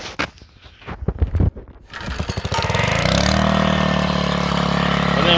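A small 12V gas alternator generator, choked, is pulled through a few rough cranking attempts, then catches and settles into a loud, steady engine run close by.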